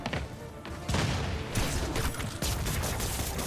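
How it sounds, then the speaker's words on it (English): Enemies in a Spider-Man video game open fire in dense, continuous bursts of gunfire, loud and close, layered with crashes and game noise. "They're trying to shoot at me."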